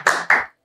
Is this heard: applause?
yes